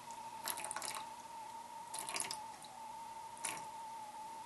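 Water poured from a container onto sourdough starter flour, heard as three short splashy pours with brief gaps between them, close up and fairly soft over a quiet room with a faint steady hum.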